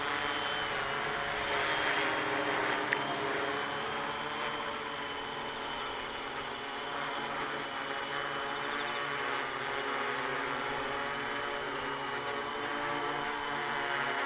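DJI Naza-lite drone hovering in altitude hold mode, a steady, continuous motor and propeller whine at even volume for the full length, with no talk.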